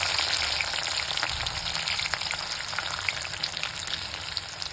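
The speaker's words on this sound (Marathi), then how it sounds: "दोन मिनटं लसूण टाकून घ्यायचा बंद गॅसमध्ये टाकायचं तळायला" Garlic fries in hot oil with the gas turned off, for a bitter gourd chutney, giving a steady, close, crackling sizzle with fine popping throughout and no voices.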